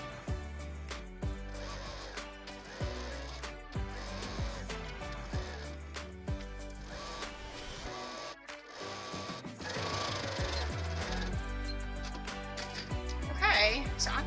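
A sewing machine stitches a pillowcase, whirring in bursts of stitching under steady talking from a nearby voice throughout.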